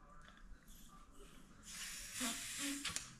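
Air blown by mouth into the inner tube of a crazy cart tyre, a breathy hiss that swells and grows louder over the last half of the clip, close to the mic.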